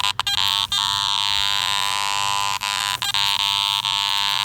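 Buzzy electronic tone from a metal detector in iron audio mode over iron targets, a continuous harsh drone broken by short dropouts and clicks, loud and close.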